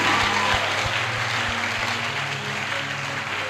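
A church congregation at a revival service claps in a steady, dense burst of applause that fills the space and tapers slightly toward the end, with no voices standing out.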